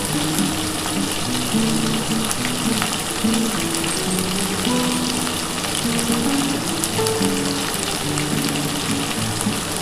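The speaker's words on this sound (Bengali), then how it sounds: "এই যে দেখো বন্ধুরা আমার মশলা কিন্তু বাটা হয়ে গেছে, এই মশলাটা পুরোটা দিয়ে দিলাম।" Ground spice paste frying in a pan for a cauliflower and potato curry with egg, giving a loud, continuous crackling sizzle close up that holds steady for the whole stretch.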